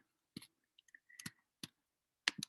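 Quiet computer mouse clicks in a still room, several sharp isolated taps spaced irregularly, a couple in quick pairs, while someone works on graffiti block lettering on a computer.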